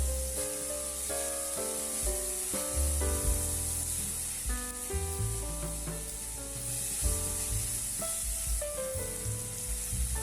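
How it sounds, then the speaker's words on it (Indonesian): Chicken pieces stir-frying in a pan until slightly white, for mini fu yung hai, with a continuous bright sizzle and the scrape of stirring under background music. "ini ayamnya kita tumis hingga sedikit putih"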